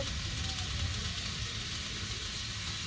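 Vegetables fry in a pan with turmeric and green chilli, giving a dense, loud, constant sizzle close by with some low rumble underneath and no clear speech.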